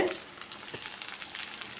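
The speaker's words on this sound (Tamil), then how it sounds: "இதோட நான் தேங்காய் சில்லியும் சேர்க்குறேன் எடுத்து வச்சது" Pieces of coconut fry with vegetables in a pan, a soft, even sizzle heard close but faint, with a light stir near the start.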